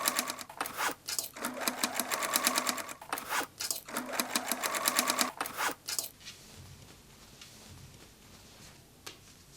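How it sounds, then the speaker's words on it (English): A sewing machine stitches the serged, folded-under armhole edges of a dress made from old pants, running in fast steady bursts with brief pauses for about six seconds, then stopping, leaving only quiet room noise and faint handling. "Serge the armhole raw edges, fold them under, and stitch."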